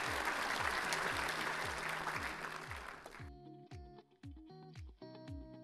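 Audience applause after a team's presentation at a final pitch event, a dense wash of clapping for about three seconds that cuts off abruptly into a rhythmic ticking electronic tone pattern.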